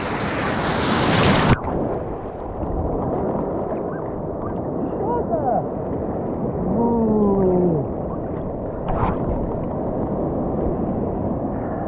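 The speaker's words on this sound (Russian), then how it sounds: "Смотри-ка, волна." Stormy sea waves roll onto a deserted Crimean beach in winter, a loud, continuous surf roar close by with wind buffeting the microphone, and a brief burst of louder noise at the start.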